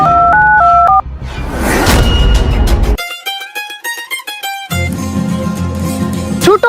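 Telephone keypad dialing tones: a quick run of stepped two-note beeps, then after a burst of loud, noisy sound a second longer sequence of clear, evenly paced tones, close and prominent.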